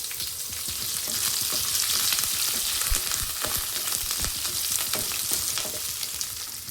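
Curry leaves sautéing in hot oil in a pan for a South Indian sprouted horse gram sambar, a steady crackling sizzle with scattered pops and stirring scrapes, close and continuous, no voices.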